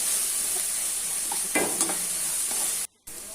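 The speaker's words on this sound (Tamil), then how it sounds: "வச்சிருக்க கருவேப்பிலை கொஞ்சம் போட்டுக்கலாம்." Curry leaves hit hot oil for an egg curry, setting off a loud, steady crackling sizzle with brief louder bursts as the pan is stirred, then a momentary cut to silence.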